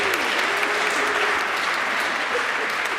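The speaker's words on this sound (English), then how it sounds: "give them a round of applause" Sustained applause from a church congregation at a Sunday service, steady and dense throughout with no break, filling the room.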